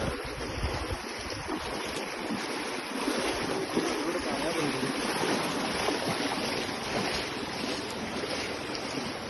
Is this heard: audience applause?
no